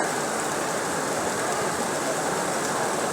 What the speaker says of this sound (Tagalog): Malakas na ang ulan.